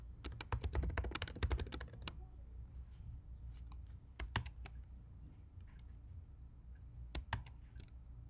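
Computer keyboard typing out a long for loop of code: bursts of rapid, close, crisp key clicks, densest at the start, then sparse taps and short pauses, with another quick flurry near the end.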